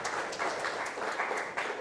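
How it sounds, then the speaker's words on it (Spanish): Church congregation applauding during a Spanish-language sermon, a dense steady wash of many hands clapping with a few louder swells, moderately near and with no voices on top. "Dale un aplauso al Señor."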